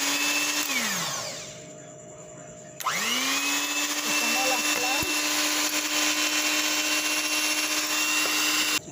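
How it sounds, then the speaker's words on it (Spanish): An electric mixer whirring as it beats egg whites for a cake, its motor dropping in pitch and slowing briefly before revving back up to a loud, steady drone. "Aquí venimos a batir las claras."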